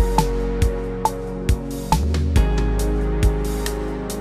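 Steady metronome clicks from the BandLab music production app tick at an even tempo over a sustained synth tone, with no voices.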